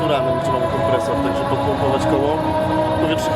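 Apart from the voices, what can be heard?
None of the usual background noises is heard.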